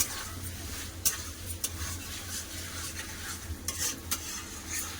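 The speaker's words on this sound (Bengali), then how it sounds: "এবার দিয়ে দেবো ভেজে রাখা পনির পনিরটা একটু কষে দেবো" Fried paneer being stir-fried in a pan for a potato-paneer curry, a low steady sizzle under repeated scraping and clinking strokes of a spatula against the pan, close by and with no voices.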